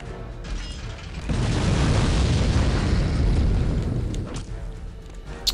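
A grenade explodes in Return to Castle Wolfenstein with a broad, rumbling boom that swells after a second and rolls on for several seconds before fading, followed by a small sharp pop at the end.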